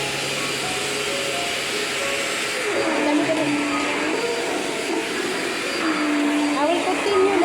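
A Potli Forzaspira vacuum cleaner runs steadily close by with a loud, whining motor drone that shifts slightly in pitch as it moves, while people talk over it.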